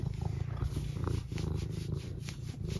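A cat purrs close up in a steady, rumbling drone that runs through the whole moment, with faint vocal rises on top and no talking.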